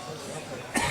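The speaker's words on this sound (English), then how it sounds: "he's not stopped coughing yet" A man coughs once, briefly, near the end at a snooker tournament venue, following faint background chatter.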